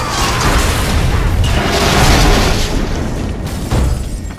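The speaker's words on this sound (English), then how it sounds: "Possible laboratory break-in confirmed by big explosion." A big explosion in the LEGO Marvel Super Heroes video game, a loud roaring boom filling the scene and sustaining for several seconds with a rumbling, debris-laden wash before tailing off, followed by a smaller bump.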